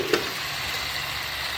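Bengal-style chicken curry being stir-fried in a pan, a brief, steady sizzling hiss with a single sharp tap at the start.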